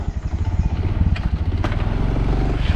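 Honda Solo moped pulling away in first gear: a small engine revving up close and loud, a rapid pulsing putter rising steadily in pace, with a faint click partway through.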